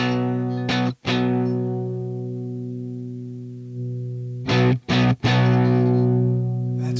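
Sustained clean electric guitar chords through a Hiwatt amp ring out, decaying slowly, with a couple of brief strums and muted gaps between them.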